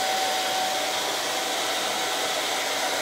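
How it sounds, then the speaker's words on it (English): A hair dryer blows steadily at close range while hair is dried up and over into a pompadour, a loud, constant rushing whoosh with a faint motor whine and no breaks. "I'm going to blow dry up and over."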